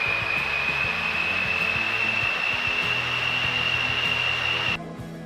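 A big turbocharger in a swapped car holds boost with a loud, steady, high-pitched whine over an engine roar. The sound cuts down sharply near the end.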